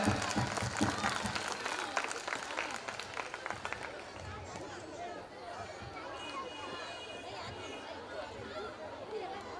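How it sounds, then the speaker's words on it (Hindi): Audience applause at a school function: a dense, loud burst of clapping at the start that gradually settles into a steady hubbub of crowd chatter. "इसके लिए जोरदार एक बार ताली हो जाए।"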